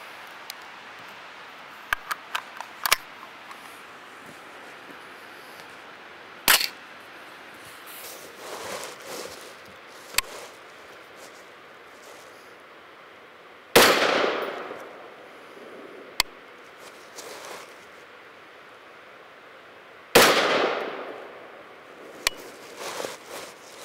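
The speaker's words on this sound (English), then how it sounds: "We're going to go ahead and shoot a 0-0 group, so zero windage, zero elevation in the optic." Three sharp rifle shots from a Mark 118 fired at a range for a zero-windage, zero-elevation group through a FLIR ThermoSight R-Series thermal scope, spaced several seconds apart, each a loud crack with a ringing decay over quiet ambience.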